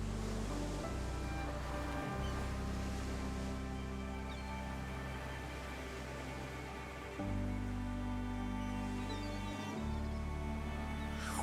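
Ocean surf at the base of the Cliffs of Moher on Ireland's western coast, a steady broad wash of waves with low rumbling swells that rise and fall, heard alone without voices.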